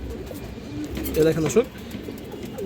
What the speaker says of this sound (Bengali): পুতুলের মতো একটা মাদি কবুতর